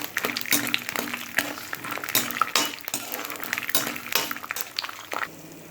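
Peanuts fry in hot oil in a pan, a crackling sizzle broken by repeated clattering scrapes and knocks of a spoon against the metal, close and busy, tailing off near the end with no voice.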